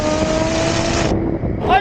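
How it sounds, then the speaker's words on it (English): A 1,200-horsepower car accelerates gently to warm its tires, a loud, close, steady engine roar that cuts off abruptly before a short rising whine at the end. "We're just gonna do a baby little acceleration just to get some heat in those RAAA tires."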